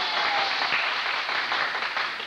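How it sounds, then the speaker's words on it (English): An audience applauds for General Smith and General Craig, a dense, steady wash of many hands clapping at close range that holds evenly for about two seconds with no voices over it. "Let's have a nice round of applause for General Smith and Craig."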